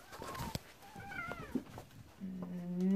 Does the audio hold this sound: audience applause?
no